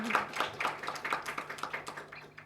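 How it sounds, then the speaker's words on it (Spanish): Applause for the speakers at a university literature colloquium, a light, thin patter of scattered claps that gradually fades, fairly quiet and distant. "Un aplauso, por favor, para los expositores también."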